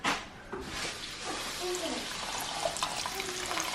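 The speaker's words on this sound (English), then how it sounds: "then you're gonna add the lemon juice" Lemon juice poured into a canning mixture of cranberry juice, a soft liquid splash over a steady broadband hiss, with voices talking nearby.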